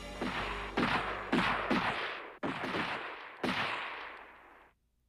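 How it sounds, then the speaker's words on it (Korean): Several gunshots ring out in a wooded area outside a village, sharp loud cracks at irregular intervals, each followed by a long echoing decay, with no talking. "잠시 후 몇 발의 총성이 울렸다."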